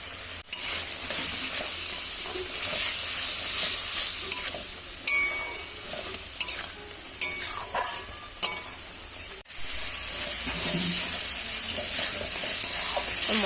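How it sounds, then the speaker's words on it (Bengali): Masala with water, salt and turmeric being stir-fried in a pan for duck egg curry: a soft, steady sizzle under repeated scraping and clinking strokes of a spoon against the metal, close up. "মশলাটা ভালো করে কষানো হয়ে গেছে"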